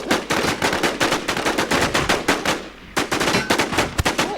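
Rapid automatic gunfire in the online shooter Infestation, loud close bursts of evenly spaced shots with a brief pause midway before firing resumes.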